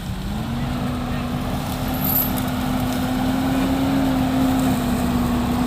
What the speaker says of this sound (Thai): เอารถหนักมาดึงรถอ้อย รถเกี่ยวนะ